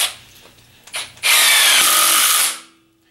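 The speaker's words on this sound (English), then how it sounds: "So just watch how fast this will drive them in." Milwaukee M18 FUEL 2653-22 impact driver set to speed 3 drives a drywall screw into a wood post: a brief whir, then a loud, steady hammering buzz lasting over a second before it cuts off.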